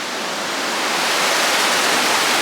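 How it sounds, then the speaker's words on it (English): A small waterfall spills under a bridge at Fitzroy Falls, making a steady, close, even rushing hiss of falling water with no other sounds. "supposed to be a little waterfall."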